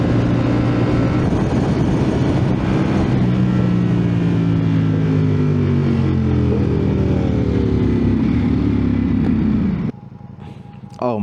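A 2024 Ducati Panigale V4S engine on the road, loud and close, revving through rising and falling throttle sweeps with wind roar, then cutting abruptly to a quieter idle-like lull near the end.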